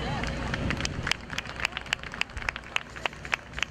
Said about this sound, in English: Let's have another nice round of applause for Mr. Paul Goodloe from the Weather Channel